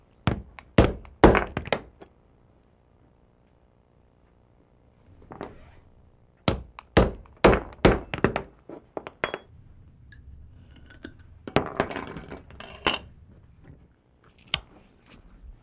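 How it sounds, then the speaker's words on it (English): A regular hand punch drives holes through a leather horse tack strap, producing sharp close thunks and clacks in quick clusters of several strikes, separated by quiet pauses. "Regular hand punch."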